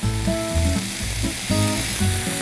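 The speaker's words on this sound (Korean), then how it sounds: "이거 막 볶을 때 이게 리듬 타면서 이렇게 하거든요" Webfoot octopus, pork and onion stir-fry in a pan with a loud, steady sizzle and rhythmic tossing and scraping strokes, no voices.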